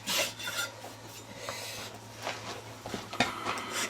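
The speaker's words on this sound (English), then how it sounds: "Just rasping the edges" Hand rasp filing the edges of a piece of wood to round them over, a steady scratchy rubbing with short strokes, close and fairly quiet, with no talking.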